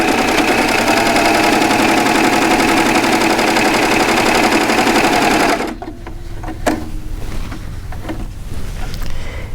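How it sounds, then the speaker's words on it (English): A serger trimming ragged fabric edges while stitching an enclosed seam, a loud fast whirring drone for over five seconds that stops abruptly, followed by quieter clicks and handling of the machine and fabric. "the machine is going to trim off those ragged edges and give us a nice enclosed seam"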